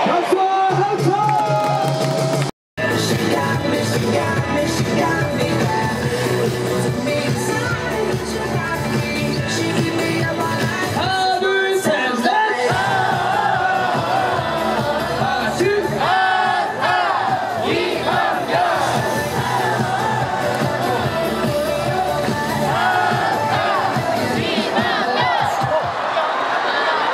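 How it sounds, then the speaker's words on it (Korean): A stadium crowd at a Korean professional baseball game applauds and cheers loudly and continuously, with chanting voices and an announcer over amplified sound, broken by one brief dropout near the start. "박수와 함성!"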